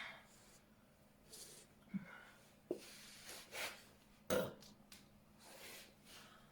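Several wet, throaty burps from a person in a leather dominatrix outfit, close and fairly loud, coming in short separate bursts.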